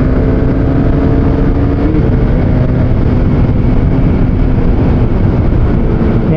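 A KTM Duke 390 single-cylinder motorcycle rides on a city road, its loud, steady engine drone mixed with heavy wind rumble and no break throughout.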